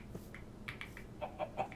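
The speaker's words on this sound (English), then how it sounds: "Chicken." Chicken clucking in the blocky survival game GregTech: New Horizons, a few short clucks spaced out, the last three in a quick rhythmic run, fairly quiet over a faint steady background.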